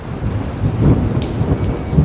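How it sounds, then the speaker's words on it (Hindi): Heavy rain pours steadily in a village setting, with low rumbling thunder rolling underneath the dense hiss of falling water, loud and continuous with no voices. "बारिश लगातार हो रही है।"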